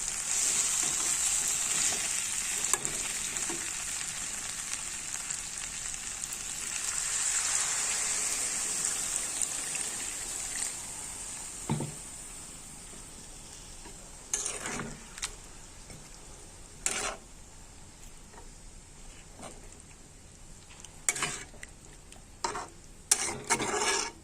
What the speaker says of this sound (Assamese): মাংসখিনি প্ৰায় ভাজা হৈছে।